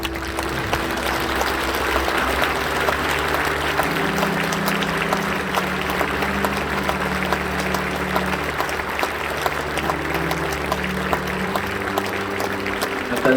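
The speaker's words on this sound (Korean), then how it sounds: "한번 다 일어나셔서 격려 박수 해주시기 바랍니다." A standing church congregation at an Easter dawn service claps in steady, continuous encouragement, with low sustained tones humming beneath the applause throughout.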